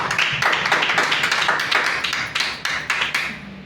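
A crowd at a gathering gives a hearty round of clapping, rhythmic and fairly loud, close by and steady for several seconds before tapering off.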